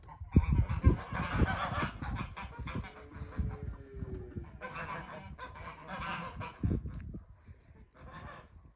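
Several geese honk repeatedly at close range, loud nasal calls overlapping in bursts with brief pauses.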